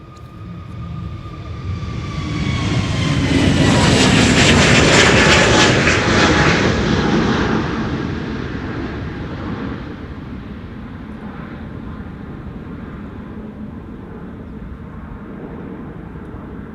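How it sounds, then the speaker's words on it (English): A Transavia Airbus A321neo departs runway 36L, the Polderbaan, at Amsterdam Schiphol. Its engines swell into a loud, broad jet roar that peaks midway as it passes, then fade to a distant rumble. "Transavia flight 5683 to Lanzarote,"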